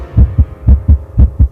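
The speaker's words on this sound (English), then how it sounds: "This is what most people's heart rate sounds like when they're getting their taxes done." Heartbeat sound effect with steady lub-dub thumps, about three double beats, close, deep and alone with no talk.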